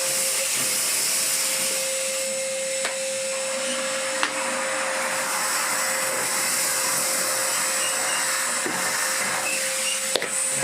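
Sealey 20v cordless DIY shop vacuum running as a dust extractor, a steady whining motor drone with airy hiss, loud and continuous with a few faint knocks.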